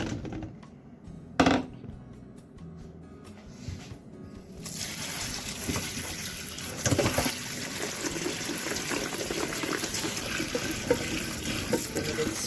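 Vegetables being rinsed and swished in water in a kitchen sink, starting with faint splashes and a clunk, then a steady running tap and sloshing water that continue to the end.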